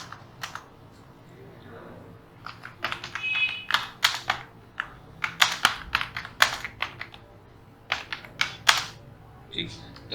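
Typing on a computer keyboard while writing a paragraph in Microsoft Word, heard as uneven bursts of close, crisp key clicks with short pauses, steady and fairly quiet with no talking.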